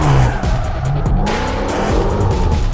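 A car's tires squeal and skid under hard driving, with a steady loud roar of engine and rubber running throughout the short burst.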